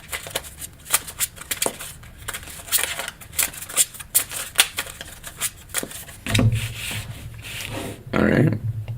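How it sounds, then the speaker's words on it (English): A deck of tarot cards being shuffled by hand at a table: quick, repeated riffling and rubbing strokes in bursts, close and fairly loud, with a heavier shuffle toward the end. "Shuffle, shuffle, shuffle."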